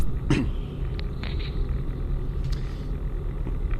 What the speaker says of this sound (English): so we're driving along